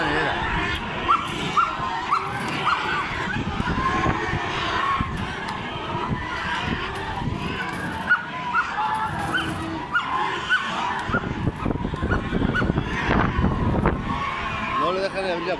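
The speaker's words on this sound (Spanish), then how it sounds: "El perro lo hemos tenido que atar porque se volvía loco" A dog tied up on a farm barks, yips and whimpers over and over, close and agitated, amid wind noise and people talking.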